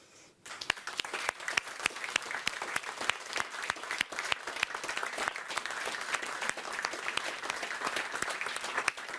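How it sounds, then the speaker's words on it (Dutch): A theatre audience at the close of a live evening show breaks into enthusiastic applause, dense and steady clapping that swells quickly and holds for several seconds without voices. "dan met een ontzettend applaus voor mijn moeder"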